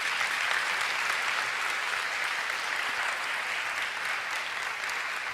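Steady, dense clapping from a congregation at an evening church service fills the whole stretch at an even, moderate level, with no voices standing out.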